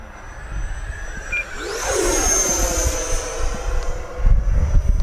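An FMS Viper 90mm RC jet flies past at half throttle with a loud, rising turbine-like whine that sweeps in pitch as it passes, over a steady low rumble.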